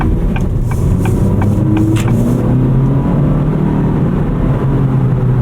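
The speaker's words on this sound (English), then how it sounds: "The exhaust sounds nice." A 2023 Acura Integra's engine and exhaust drone steadily up close, rising as the car accelerates, with constant road rumble underneath.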